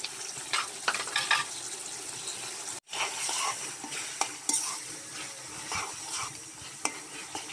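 A paste of ground ginger, cumin, green chili and garlic fries in a pan for a beef curry, crackling under the steady scrape and clink of a spoon stirring it, close up and without talk.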